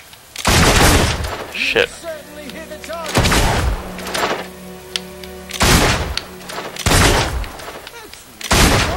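Gunfire in the Fable 2 video game comes in several loud bursts of shots separated by short pauses, with someone speaking briefly between them.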